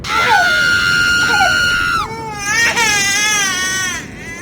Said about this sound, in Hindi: किसी औरत के रोने और बच्चे की चीखों की आवाज आने लगी।